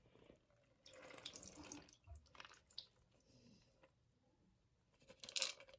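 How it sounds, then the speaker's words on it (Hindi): Water is poured off soaked, sprouting mung beans and the beans are washed in a sink: running water splashes and trickles in bursts, with a brief louder gush near the end. "तो पानी गिराएंगे, फिर उसको वॉश करेंगे पहले"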